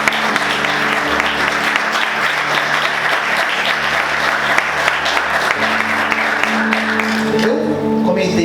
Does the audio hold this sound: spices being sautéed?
no